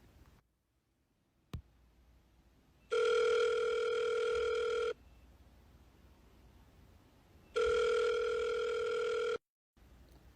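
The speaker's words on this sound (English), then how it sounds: "It's ringing." A phone rings twice through the earpiece of a call, each burst about two seconds long, separated by quiet hiss and preceded by a click, with no voices.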